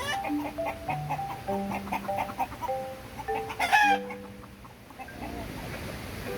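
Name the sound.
free-range chickens and silkie chickens clucking on a farm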